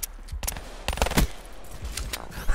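Gunfire in a Gun Game match of a shooter video game, sharp rapid bursts and single shots cracking close and loud, clustered in a rattling exchange with brief gaps between volleys.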